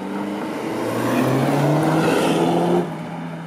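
An Alfa Romeo Giulietta Quadrifoglio Verde 240 hp engine hums steadily with a smooth rising rev that holds, then eases back down near the end.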